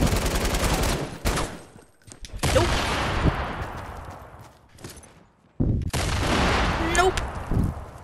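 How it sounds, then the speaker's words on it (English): Gunfire from a newly picked-up weapon in the Fortnite video game, loud bursts of shots in several bunches with short silent gaps between them, mixed with game noise and some talk. "I got the new gun"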